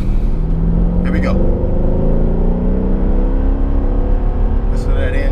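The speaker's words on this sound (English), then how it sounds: "Listen to that engine. Hear that exhaust?" Mercedes SL 63 AMG engine and exhaust revving, a loud close deep rumble with rising and falling tonal sweeps, steady throughout without talking.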